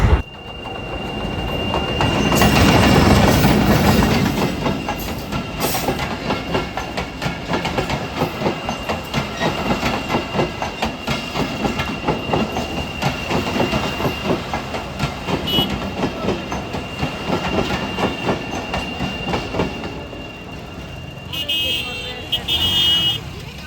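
A train rushes past close by, starting with a loud roaring swell, then a long run of rhythmic clickety-clack from the wheels and some metallic squeal. The rumble holds steady and then eases slightly toward the end.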